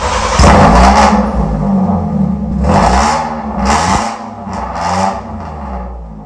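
A Honda Civic with a failed catalytic converter revs hard, its loud, raspy exhaust rising and falling through several throttle blips close by, with no voices.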